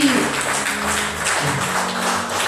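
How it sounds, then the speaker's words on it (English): Congregation at a lively church service in Portmore, Jamaica, clapping hands in a dense, continuous burst of applause, with low organ or keyboard tones sustained underneath. "Clap your hands for him."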